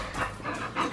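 A normally quiet female dog, worked up and wanting to play, pants quickly and makes soft eager whines in short bursts, close and fairly faint.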